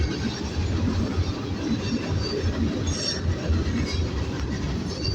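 A fast Norfolk Southern manifest freight train passes close by with a loud, continuous rumbling roar, steady clickety-clack from the wheels over the rails, and occasional high metallic squeals.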